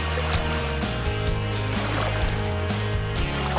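Paddles working a boat through water, with rhythmic sloshing strokes and splashes over continuous water noise and background music.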